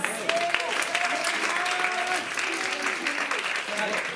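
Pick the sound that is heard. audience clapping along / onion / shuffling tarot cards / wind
audience clapping along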